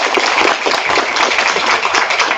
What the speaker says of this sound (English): so I want to give a round of applause to our principals.